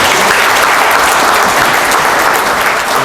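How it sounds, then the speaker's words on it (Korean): Loud, sustained applause from a forum audience in a National Assembly members' hall, with steady, dense clapping filling the whole clip without a break. "큰 박수"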